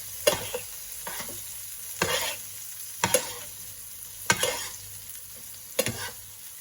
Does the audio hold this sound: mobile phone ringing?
no